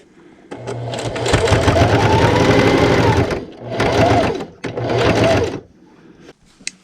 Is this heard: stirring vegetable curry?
no